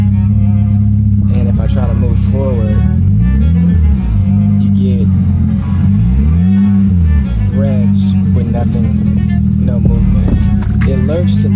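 Car engine revving while in drive but not moving, with a possible transmission or crankshaft fault; a loud steady drone with repeated rising and falling rev swells, heard close under someone talking.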